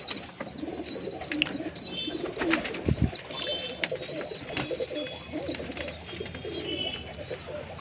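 Several Kaldum pigeons coo in low, throaty bursts, overlapping one another, with brief chirps and wing flutters scattered throughout.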